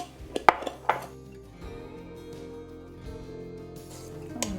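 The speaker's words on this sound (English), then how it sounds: "We'll mix all the ingredients." A spoon clinks and scrapes against a bowl as wonton filling with egg, ground pepper and salt is mixed for Filipino pancit molo, a few sharp knocks early, then a steady low stirring rumble.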